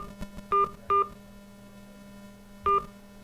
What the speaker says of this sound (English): Please enter your access code followed by the pound or hash sign.